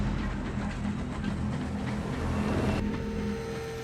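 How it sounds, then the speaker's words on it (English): A steam train passes along a track, a continuous rumbling, clattering rail noise with steady low mechanical drone, moderately quiet and distant, then cutting to a quieter tone near the end. "The train steams past."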